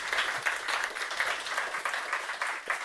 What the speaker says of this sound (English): Clap to them as well.